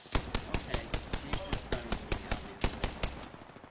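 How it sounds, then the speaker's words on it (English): Rapid automatic gunfire in the video game Apex Legends, a loud, even burst of about twenty shots over a few seconds. "I am taking fire, friend."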